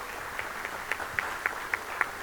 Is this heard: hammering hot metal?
no